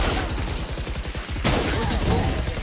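Rapid bursts of SMG fire in Valorant, a fast rattling stream of shots up close, broken by a short pause before another volley, with players talking over it.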